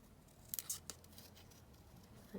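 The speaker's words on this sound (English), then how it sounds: "So I'll just cut this topper out." Scissors snip out a paper topper for a scrap label cluster, giving a short run of three or four crisp, close cuts against a quiet background.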